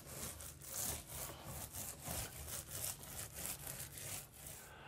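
A microfiber mini roller scrubs Venetian plaster across a wall in random motions, making rhythmic, close rasping strokes that swell and fade about once per second, with no talk.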